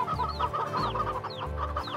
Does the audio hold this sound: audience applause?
no